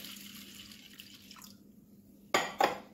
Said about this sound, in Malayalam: ഇനി നമുക്ക് കുതിര ആവശ്യമായ വെള്ളം ഒഴിച്ചു